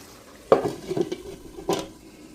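Prawn bhuna cooking in a pan as coriander leaves go in, a few distinct clanks of a spoon against the pan over a low sizzle.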